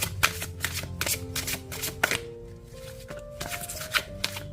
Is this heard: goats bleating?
no